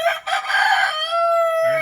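A rooster on a farm gives one loud, close crow, a long harmonic call that rises, holds steady and then trails off, heard on its own with no talk.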